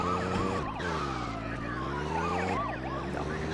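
Ambulance siren from Grand Theft Auto 2, wailing loud and close with rising and falling sweeps over a steady engine and game background, continuous throughout.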